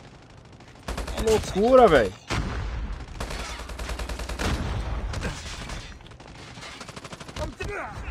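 Gunshots from a sniper-firing bot in Call of Duty: Mobile, sharp repeated cracks mixed with dense in-game battle noise and a player talking excitedly over it.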